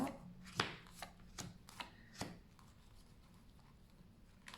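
Cards being laid out for a card reading, a few soft taps and light slaps of cards on a table, sparse and quiet against faint background hiss.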